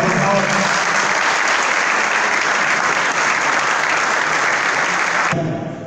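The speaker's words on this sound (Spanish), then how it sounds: "fuerte un aplauso, por favor." Loud, sustained audience applause at a book launch event, dense continuous clapping for several seconds that cuts off abruptly near the end.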